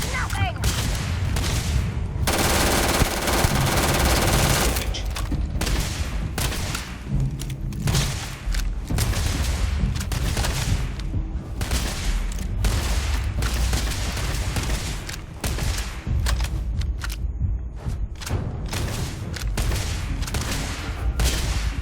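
Gunfire from the sci-fi video game Starfield, a dense, near-continuous barrage of shots and heavy thuds lasting throughout, loud and busy, with a voice speaking over it at times.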